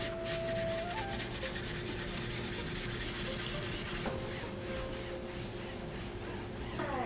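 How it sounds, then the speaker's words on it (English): Scrubbing stuck-on residue off a pan after making strawberry crepes, a steady close rubbing scour that runs continuously with a faint tonal hum underneath and no talk. "You scrub it all around, and then I'll do the part where it's stuck on there"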